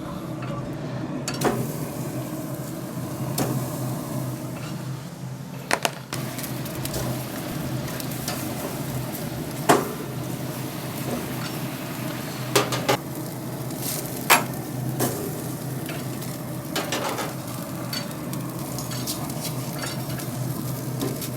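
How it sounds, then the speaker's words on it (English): Veal t-bones grill on a Louisiana Grills LG800 Founders Legacy, giving a steady close sizzle with a low constant hiss, broken by occasional sharp metallic clicks and taps. "Now it's time to grill the meat."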